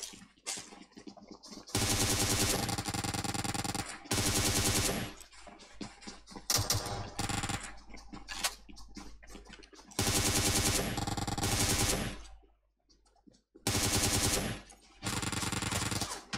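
Gunfire in PUBG Mobile on the winter Erangel map: loud sustained bursts of automatic fire repeat in several long strings, separated by short gaps holding softer clicks and single shots, close and dominant.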